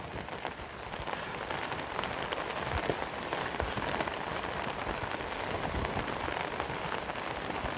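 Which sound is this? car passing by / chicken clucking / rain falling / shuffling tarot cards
rain falling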